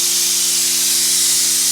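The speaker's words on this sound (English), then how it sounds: "So the pressure cooker's come to a steam." Steady loud hiss of steam escaping from a pressure cooker during the cooking of beef nihari, continuous and close, with a faint low hum underneath and no talk.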